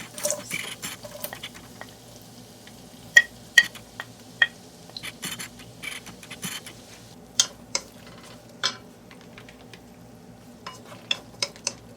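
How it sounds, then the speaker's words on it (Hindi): Onions sauté over high heat in a pan with rosemary for a butter garlic mushroom dish, giving a steady soft sizzle broken by frequent sharp scrapes and taps of a spoon stirring close by, with no talking. "फ्लेम को हाई हीट पे करेंगे। अनियन को सॉटे करेंगे।"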